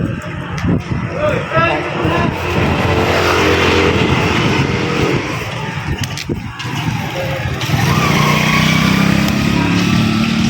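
Street traffic on a busy road with cars, motorbikes and tricycles passing close by, giving a continuous engine rumble and whoosh while someone talks over it.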